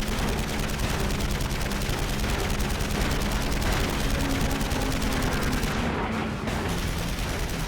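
Rapid, sustained machine gun fire from a WWII aerial dogfight against German fighters, loud and dense bursts chattering continuously throughout with no talk.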